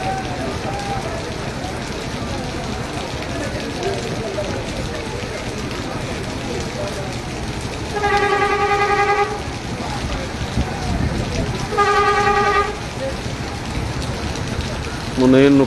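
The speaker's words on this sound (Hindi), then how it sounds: "बहुत तेज़ बारिश है हाली तक" Heavy monsoon downpour hammers steadily as a dense, continuous hiss over a flooded roadside, broken by a couple of brief tonal bursts partway through.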